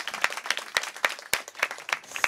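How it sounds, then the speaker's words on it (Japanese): A small club audience at a freestyle rap battle applauds the winner of a round, a scattered, fairly quiet patter of claps with a few louder individual claps standing out. "大きな拍手"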